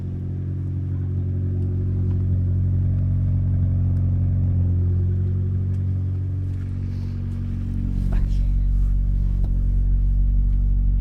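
Honda CRX with a VTEC engine idling and revving after being started, a loud, close, continuous low rumble that swells and eases in waves, rising into a heavier, louder roar near the end.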